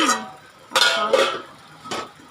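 A few sharp metallic clinks and scrapes as a lid is lifted off a pot of cooking chicken gravy and set against it, spaced out with quiet gaps between.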